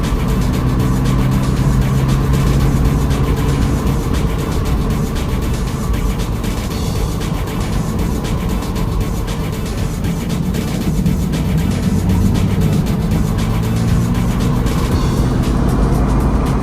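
A 2023 Subaru BRZ engine pulls under throttle while driving on break-in miles in Virginia, a loud, steady cabin drone of engine and road noise that holds for the whole stretch with no one talking.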